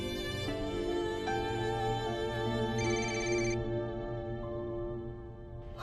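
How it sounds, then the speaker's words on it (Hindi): A phone ringtone plays a steady electronic melody with sustained tones, fairly quiet and alone for several seconds with no talking over it. "हमना का फोन है"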